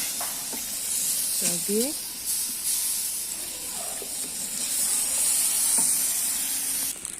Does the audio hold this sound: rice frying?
yes